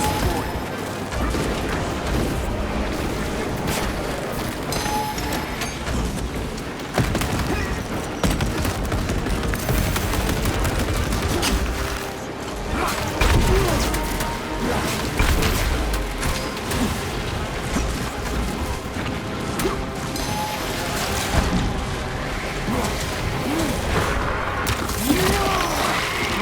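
Battle noise from Warhammer 40k: Space Marine 2, with a frag grenade blast amid dense, continuous gunfire and crashing impacts, loud and close throughout with no pauses.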